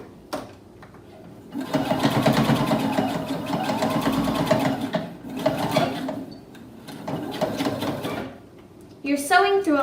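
Sewing machine stitching slowly through many layers of fabric while making a face covering, a steady motor whir with rapid needle clatter running for several seconds, pausing briefly, under a person talking nearby.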